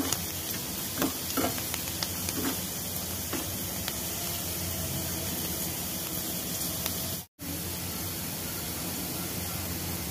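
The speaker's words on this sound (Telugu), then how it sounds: "ఇది ఇలా దోరగా వేయించుకోవాలి." Chana dal fries in hot oil as a continuous, loud sizzle, with occasional light clicks of stirring and a brief dropout near the end.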